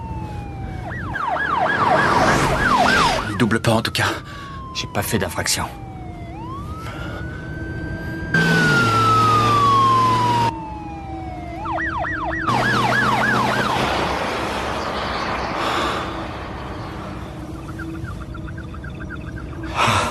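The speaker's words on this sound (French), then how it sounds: "C'est peut-être pas pour nous, la sirène." An emergency siren wails in rising and falling sweeps, alternating with a long steady tone, loud and close, while people talk briefly in a car.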